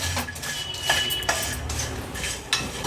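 Whole spices are dry-roasted and stirred in a pan over low to medium flame for a Maharashtrian Agri-Koli storage masala, with a metal spoon scraping and clinking against the pan in a steady, fairly quiet series of strokes.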